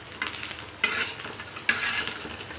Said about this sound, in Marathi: शेंगदाणे लसूण आणि मिरची आता भाजून घ्यायची